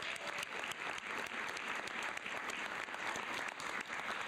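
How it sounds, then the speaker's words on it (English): Steady, dense applause from an audience at a school board of education meeting honoring parents and families, continuous and fairly distant, with no talk over it. "how about one more round of applause for the parents and the families?"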